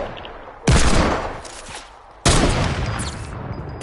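Two sharp, loud bursts of video game gunfire about a second and a half apart, each with a sudden blast and decaying rumble, no talk.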